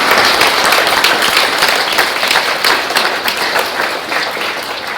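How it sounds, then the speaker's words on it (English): A school presentation-day crowd applauds sports champions with steady, dense clapping that holds loud and continuous throughout. "can we give all these sports champions a round of applause?"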